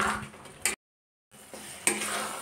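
A spoon scrapes and clinks against a wok while a sweet coconut mixture with cardamom is stirred down until its water dries, soft steady stirring with a couple of sharper metallic knocks around a short pause; no speech.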